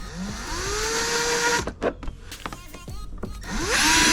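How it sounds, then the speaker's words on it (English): A power drill bores a hole on a Can-Am Maverick X3 Max for a Diode Dynamics rock light, its motor whining up and down in pitch across several close bursts, with clicks and handling noise in between. "I'm going to go ahead and drill the hole."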